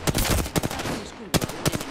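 Rapid machine gun bursts from Apex Legends, two quick clusters of sharp, loud shots separated by a brief pause, game ambience between them.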